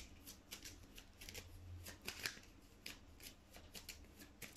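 Tarot cards are shuffled for a love reading, a quiet, close series of crisp riffling flutters and soft slaps repeating in quick bursts.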